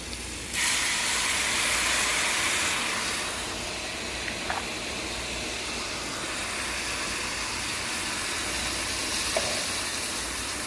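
Boiling water is poured into a hot pot of rice, setting off a steady, loud hiss and sizzle that lasts around ten seconds with little change.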